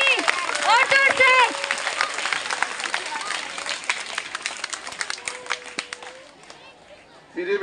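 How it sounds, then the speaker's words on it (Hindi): Students at a school Independence Day celebration clap for the principal amid crowd chatter and some voices, the applause strongest early and then tapering. "प्रिंसिपल सर के लिए जोरदार तालियां।"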